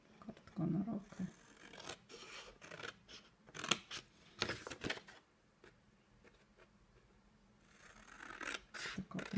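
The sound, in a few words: cutting card by hand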